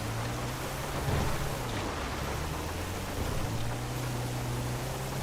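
Rain falls in GTA Online as a steady, even hiss of downpour, with a low droning hum running underneath and no voices.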